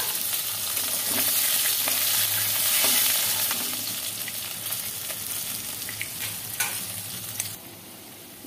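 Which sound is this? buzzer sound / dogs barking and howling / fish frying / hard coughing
fish frying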